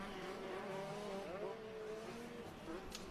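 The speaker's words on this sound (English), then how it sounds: "Looks like on the starting line, Conti number 2 is getting it revved up." A motocross dirt bike sits on the starting line at a youth motocross event while its engine revs in a steady, fairly loud drone whose pitch rises and dips throughout.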